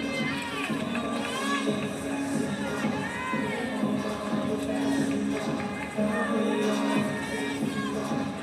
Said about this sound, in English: I can even see Anna Catarariu in front of me cheering her on